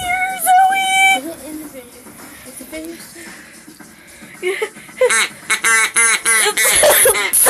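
Someone mimics a duck's quack at a party, giving a string of short nasal quack-like bursts in quick succession toward the end, with noisy chatter and other voices around it.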